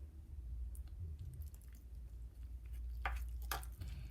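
Quiet wet squishing and scraping as a thick piñata-making paste with water is stirred in a bowl, with a few sharper clicks of the utensil near the end.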